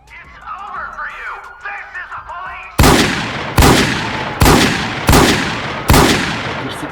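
Gunfire in the MTA multiplayer game during a police chase in a roleplay server, with five loud, sharp shots at roughly regular intervals after a stretch of lower engine and ambient game noise.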